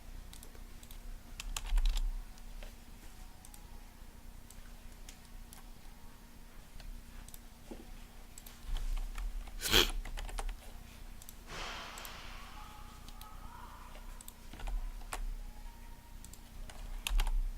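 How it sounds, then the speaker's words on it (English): Typing on a computer keyboard, with steady light key clicks and taps that run throughout. A few louder clacks and brief bursts stand out, heard close up in a quiet room with no one speaking. "Excuse me whilst I just do some typing for a minute"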